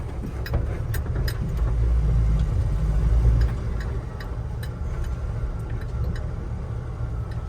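A 1981 Jeep CJ-7 Laredo with a 4-speed rolls along at low speed, its engine a steady close rumble with faint ticking and clatter over the drone.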